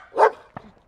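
A dog on a morning walk lets out a single sharp, close bark followed by a brief softer yip, with no talking.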